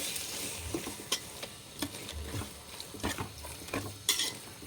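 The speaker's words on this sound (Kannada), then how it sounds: "ಇವಾಗ ಮತ್ತೆ ಒಂದ್ಸರಿ ಚೆನ್ನಾಗಿ ಮಿಕ್ಸ್ ಮಾಡ್ಕೊಳ್ತಾ ಇದ್ದೀನಿ" Gongura leaf chutney is stirred in oil in a pan over low flame, a soft sizzle broken by repeated spoon scrapes and clinks against the metal at an uneven rhythm.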